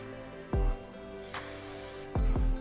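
A soft, steady mist of Patrick Ta setting spray hisses onto a face for about a second, framed by a few low thumps and rustles; close and fairly quiet.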